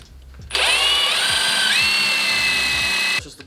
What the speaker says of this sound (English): Just mark your holes and drill straight forward.